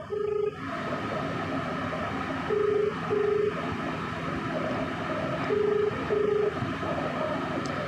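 A mobile phone call rings out over hands-free speaker, repeated short ringback tones in pairs under a steady noisy outdoor background, moderately loud.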